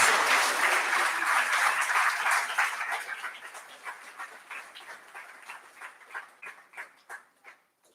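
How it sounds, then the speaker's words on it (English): An audience applauding at the SIHH 2022 grand finale, dense sustained clapping that thins and fades over several seconds into scattered claps. "can we please give all of them a huge round of applause?"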